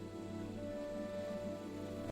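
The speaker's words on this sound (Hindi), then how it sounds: "एक दिन जंगल में तेज बारिश शुरू हो गई।" Heavy rain falls in a forest scene of an animated Hindi bedtime story. It is a steady, dense, continuous patter with no voices.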